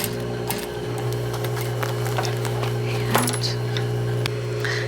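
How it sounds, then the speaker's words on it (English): A sewing machine top stitching over earlier stitching on a jeans waistband, a close, steady mechanical hum with faint ticking and a few small clicks, no talk. "I'm just going to flip it around and top stitch over my top stitch."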